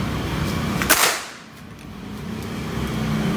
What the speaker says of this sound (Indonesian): Kita coba ya, tembakan pertama.